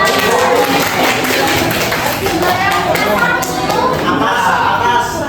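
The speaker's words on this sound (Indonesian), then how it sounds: "Tepuk tangan untuk kita" Students at a high school mathematics lesson in Indonesia clap and cheer, continuous applause blended with lively chatter and voices throughout, fairly loud and sustained for several seconds.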